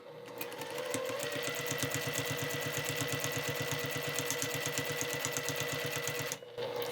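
Sewing machine stitching an eyeglass case, a rapid, even mechanical chatter running fast and close for several seconds before stopping abruptly.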